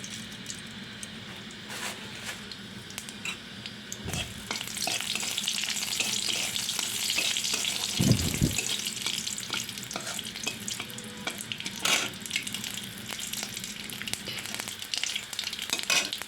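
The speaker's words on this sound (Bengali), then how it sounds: "কড়াইয়ে তেল দিয়ে দিয়েছি আর আমি দিয়ে দিলাম একটু শুকনো লঙ্কা ফোড়ন আর দিয়ে দেবো একটু সর্ষে ফোড়ন" Dried red chillies and mustard seeds crackle and sizzle in hot oil in a wok, a steady close frying hiss with scattered pops and a couple of dull knocks, no voices.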